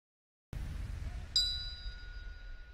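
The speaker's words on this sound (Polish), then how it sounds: "Usłyszeliśmy sygnał." A single bell ding marks the end of the first round of a reserve K-1 kickboxing bout in the 70 kg category at a fight gala, ringing once sharply over a steady low arena rumble, with a lingering tone.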